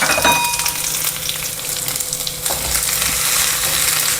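Onions fry in a little oil in a pan with a loud, close, continuous sizzle and some stirring throughout.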